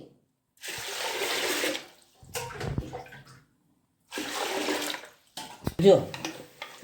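Sago pearls are washed in a pot of water for chakri: two separate bursts of swishing, pouring water, each about a second long, separated by quiet gaps and followed by brief clanks of the vessel.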